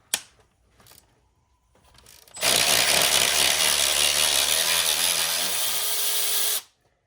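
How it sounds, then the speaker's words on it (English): A power driver with a T30 bit cracks loose the oil separator bolts on a VW EA888 engine: a few faint clicks first, then a loud, close whir that runs steadily for about four seconds before cutting off. "Get this oil separator off. Just all the bolts around it. Just crack them loose."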